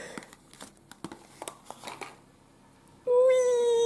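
Crinkling plastic wrapper of a Tsum Tsum booster pack being opened, a run of sharp crackles and tears over about three seconds, then a sustained tonal sound abruptly takes over.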